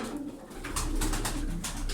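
Tumbler pigeons coo close by in soft, repeated throaty rolls that swell in a loose rhythm over a low background hum.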